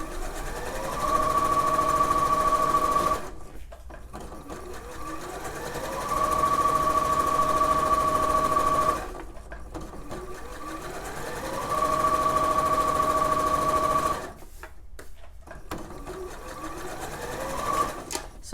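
A home sewing machine runs in three long steady bursts, stitching a facing onto a summer faux wrap dress, with a bright whirring hum and brief quiet pauses between runs, close up and without talk.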